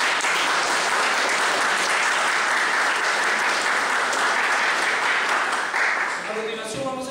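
Loud, sustained audience applause in a university lecture hall after a keynote lecture on constitutional history, dense clapping filling the room before tapering off near the end.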